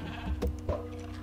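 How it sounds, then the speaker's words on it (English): Sheep bleats in the video game Minecraft, two short bleats close together near the start over a low steady game background hum. "See if I can reel in that sheep there."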